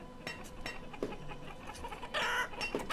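Chickens cluck in short, irregular bursts in a Banished town, several hens calling near and far against a soft background, with no one talking.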